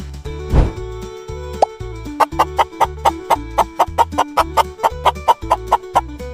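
A cartoon chicken clucks in a quick, regular series of sharp, close calls after an opening plop-like sound, with no talking over it.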